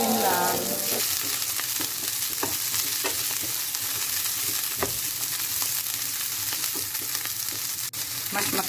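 String beans sizzle steadily in a hot pan as a spoon stirs them, with a continuous loud frying hiss and soft scraping clicks throughout.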